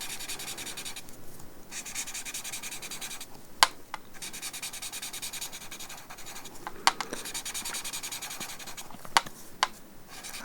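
A paper tortillon blending graphite into textured drawing paper gives a soft, steady close-up rubbing and scratching, broken by a few sharper ticks and strokes, quiet with no voices.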